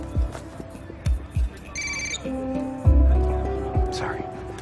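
A mobile phone rings from inside a front trouser pocket, its tone repeating under talk and nearby movement, with a car rumble in the background.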